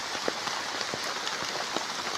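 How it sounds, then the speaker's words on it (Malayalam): Steady heavy rain pouring down, a dense continuous hiss with scattered louder drops, no voices. "മഴ ശക്തി പ്രാപിച്ച് വരികയാണ്"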